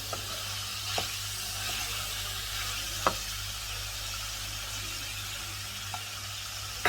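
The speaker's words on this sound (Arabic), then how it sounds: "احنا بنسيبه يتشوح بسيط جدا مع الزيت اللي نزل من اللحمه" Onions sauté in oil rendered from beef fillet cubes, giving a steady close sizzle and hiss with a few faint clicks of a utensil, no voices heard.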